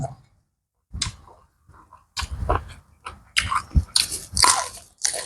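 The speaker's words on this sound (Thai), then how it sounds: "มะเขือกรอบดี" Someone bites into and chews crunchy eggplant close to the microphone, with loud irregular crunches and chewing bursts between short pauses, and a voice speaks briefly.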